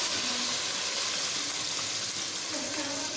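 Water pours steadily into a pot of spiced palak gosht with a soft, continuous rushing and sizzling sound, close by, with no talking.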